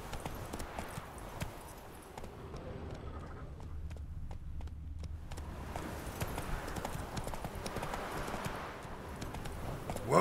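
Roach, Geralt's horse in The Witcher 3, trots with steady, close clip-clop hoofbeats that continue throughout, with faint game ambience beneath and a brief lull in the middle.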